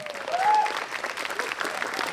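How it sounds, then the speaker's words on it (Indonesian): Audience applause for stand-up comedian Bintang Timur at a comedy show, moderately loud and continuous, with a brief whistle or cheer near the start. "Sekali lagi boleh tepuk tangan buat Bang Bintang Timur"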